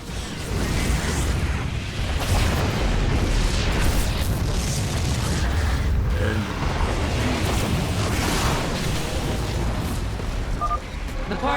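Particle cannons exploding in the StarCraft 2 video game, a dense continuous roar of booming blasts and rumbling debris, loud and close with no break for the whole stretch.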